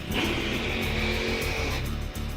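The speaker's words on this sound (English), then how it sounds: "The sound of a burnout of a Nitro Funny Car." A Nitro Funny Car does a burnout at an NHRA drag race. It gives a continuous, loud, roaring engine blast with a high screeching edge that fills the whole stretch.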